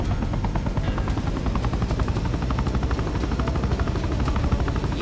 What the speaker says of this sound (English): First, steer the chopper to the glowing circle up ahead.